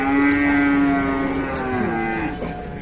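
Cattle moo loudly and continuously from inside a livestock transport vehicle at a market in Ambarawa, with long, droning calls close by and no talking over them.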